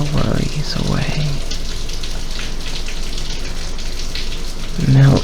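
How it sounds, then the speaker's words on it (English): Steady rain falls as a constant soft hiss of drops on a surface, close and even throughout, with a soft voice murmuring over it at the start and end. "Listening to the rain."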